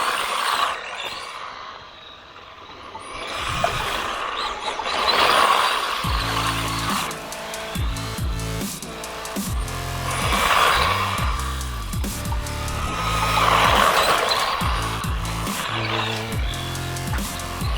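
A small HOSPEED HS16351 1/16-scale RC car drives and drifts around a parking lot. Its electric motor whines and surges through repeated bursts of throttle, and its tires scrub on the pavement. The sound is close and steady, with no talking.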